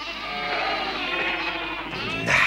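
Sheep bleating in a cartoon farm scene, a loud, wavering cry held for over two seconds, close and prominent with a brighter burst at the end.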